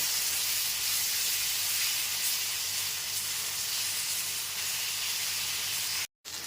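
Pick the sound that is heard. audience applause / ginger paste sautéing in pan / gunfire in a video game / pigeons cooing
ginger paste sautéing in pan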